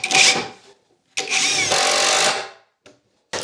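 A power drill drives screws into a wooden twin bed frame in short bursts: a brief whir, a pause, a longer run of about a second and a half, then two quick blips, all loud and close.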